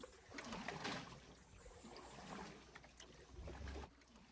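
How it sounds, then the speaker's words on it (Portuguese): Oar paddling a boat with its engine switched off, travelling river waters in Jaú National Park; soft splashes and watery strokes recur irregularly over a low continuous wash, with a heavier low thump near the end. "chegou o momento de desligar o motor e usar o remo"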